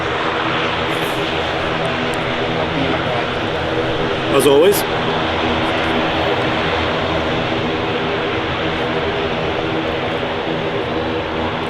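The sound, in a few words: Logan Air ATR 72 turboprop aircraft engines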